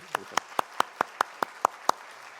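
Sharp, evenly spaced claps ring out in a quiet church room, about nine single hand claps in a steady rhythm, close and distinct.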